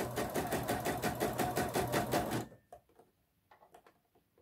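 Sewing machine stitching a bias binding onto a garment neckline, a fast steady mechanical chatter at close range for a couple of seconds, then stopping, followed by faint handling clicks.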